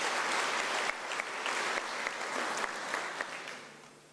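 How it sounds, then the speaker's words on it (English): At an academic year closing ceremony, an audience gives another round of applause, a full, even patter of clapping that gradually fades over the final second. "Let's give him another round of applause."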